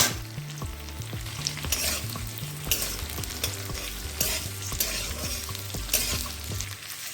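Cubed onion and capsicum fry in a pan over a low-to-medium gas flame, a steady crackling sizzle with rhythmic spatula stirring strokes throughout.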